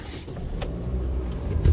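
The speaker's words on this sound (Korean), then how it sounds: "시동 한번 걸어볼게요." A 2005 Daewoo New Lacetti automatic sedan starts up. Faint clicks and a brief whir are followed by a low engine rumble that swells and thumps louder right at the end.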